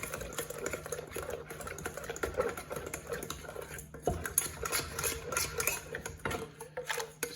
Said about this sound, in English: I'll stir everything until it becomes a paste.